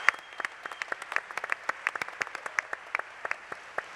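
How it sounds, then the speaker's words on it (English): Scattered claps from an audience at a Star Wars Celebration Europe art panel, loud individual hand slaps rising out of a softer wash of clapping. "Give another round of applause."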